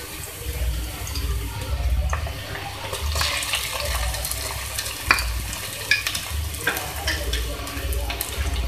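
Ginger garlic paste frying with dal in a pan, a steady low sizzle under clattering stirring and a few sharp utensil knocks throughout.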